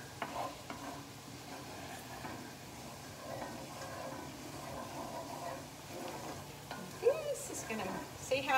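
Flour is stirred into brown gravy sizzling in a pan, a quiet, steady frying hiss with soft scraping strokes and a few sharper clinks near the end.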